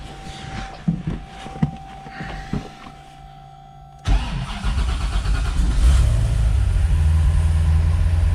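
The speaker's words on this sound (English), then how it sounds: "And that is how a V8 Porsche should start." A Porsche 996 Carrera Convertible with a swapped-in LS3 V8 cranks and fires into a loud, deep V8 idle that settles into a steady rumble, with some light clicks and handling noises beforehand.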